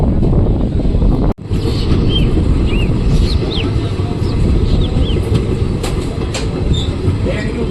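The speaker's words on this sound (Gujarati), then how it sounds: "ખીજડીયા જંકશનથી આપણે ટ્રેન ઉપડી ગઈ" A train pulls out of Khijadiya junction on the way toward Junagadh, a loud continuous rumble of wheels and carriages filling the air, with faint squeals and rattles above it and a brief sharp dropout early on.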